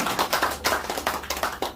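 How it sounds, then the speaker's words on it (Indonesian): Close, crisp clapping from an audience at a health talk, rhythmic bursts of hands in a quick, uneven pattern over a short stretch. "Boleh tepuk tangan lagi sekarang buat saya."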